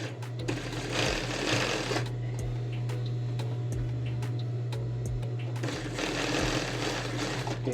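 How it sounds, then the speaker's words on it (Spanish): Domestic sewing machine running a topstitch along the back seam of a women's blouse, a loud steady motor whir in bursts with brief pauses between runs, close up with no talk. "Ahora voy a pasar un pespunte al ancho del pie sobre la espalda para limpiar la costura"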